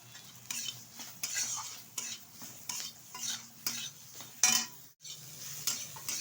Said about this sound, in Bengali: বেগুনটা ভালোভাবে ভেজে নেব